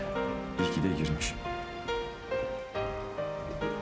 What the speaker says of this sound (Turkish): Ben de yağmurun bitmesini burada bekleyeyim dedim.